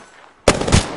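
A loud burst of rapid video game gunfire cuts in halfway through, breaking a near-quiet stretch and carrying on dense and close to the end.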